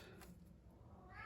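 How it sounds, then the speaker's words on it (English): A house cat meows faintly in the background of a quiet room, one soft call near the end of a low steady hum, with no talking. "if you hear my cat in the background"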